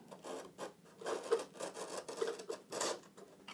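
A file rasps a tiny bevel into the metal skin of a Beech 18 aircraft, with quiet, close, rhythmic strokes repeating steadily, about two or three per second.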